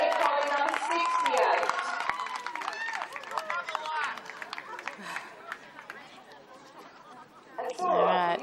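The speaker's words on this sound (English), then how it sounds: "A big cheer as they make their way around" Crowd cheering and chatter fill an indoor arena during the Puppy of the Year 2018 final, with a dense, steady roar of voices, whoops and scattered clapping under announcer talk.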